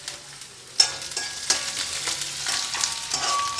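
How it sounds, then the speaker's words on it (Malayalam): Green chillies, ginger and garlic sautéing in a pan for a soya chunks roast, a steady close sizzle with several sharp stir scrapes punctuating the frying. "അതൊന്ന് വഴന്ന് വരുമ്പോഴത്തേക്കും നമുക്ക് ഇഞ്ചിയും വെളുത്തുള്ളിയും കൂടി അരിഞ്ഞ് വെച്ചേക്കുന്നത് ഇട്ട് കൊടുക്കാം"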